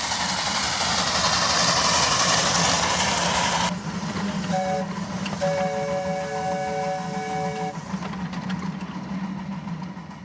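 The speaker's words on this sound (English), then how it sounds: "not only was it the fastest train, but it also sounded really cool too." Fast miniature park train running, a loud rumbling roar with steady mechanical clatter that suddenly eases into a quieter rolling hum, with a few brief tonal beeps or whistles partway through.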